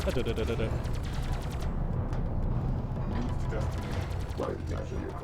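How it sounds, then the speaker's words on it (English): A sand skimmer's laser cannon fires in the real-time strategy game Homeworld: Deserts of Kharak, a rapid, steady stream of crackling bursts like automatic gunfire under a dense battle din. "Let's just get a little in-depth look here at this sand skimmer tuning away with his laser cannon."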